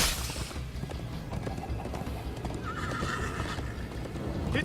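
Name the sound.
horse neighing and galloping in the video game Minecraft: Story Mode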